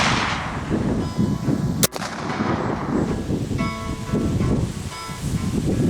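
A single sharp blast from a Cabela's .58 caliber Hawken percussion muzzleloader rifle fired outdoors, loud and close, amid wind noise.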